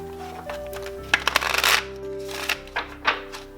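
Tarot cards shuffle and riffle in a few quick close bursts, followed by softer single card slides and taps over a faint steady background tone.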